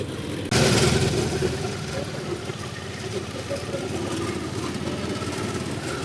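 A round-tofu seller's motorcycle engine buzzes along a road, a steady mid-pitched drone heard from another moving motor tricycle, with a brief louder burst near the start and faint talk underneath.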